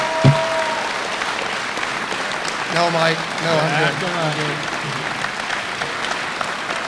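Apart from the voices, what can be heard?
audience applause for Ring of Honor members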